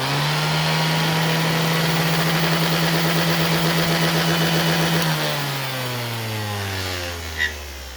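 An old, poorly running orbital sander motor hums steadily at close range, then slows and winds down as it is switched off, with a small click near the end.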